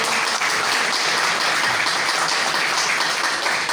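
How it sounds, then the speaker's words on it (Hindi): Steady, dense applause from an audience at a cultural evening honouring the families of martyred soldiers, sustained and even throughout with no break. "तो एक बार फिर से इनके सम्मान में फिर से आप लोग तालियां बजाइए"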